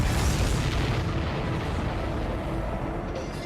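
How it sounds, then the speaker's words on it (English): Explosion of a supply ship in the combat flight game Ace Combat 7, a loud, sustained low rumbling blast that rolls on for several seconds with dense noise and no talk. "Did you see that explosion?"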